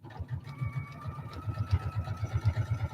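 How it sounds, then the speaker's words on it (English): A sewing machine stitches a seam in fine fabric, its rapid, even needle chatter running close and steady and speeding up toward the end, with a faint motor whine underneath. "And you can sew faster."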